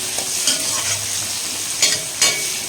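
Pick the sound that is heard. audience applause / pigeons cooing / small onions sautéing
small onions sautéing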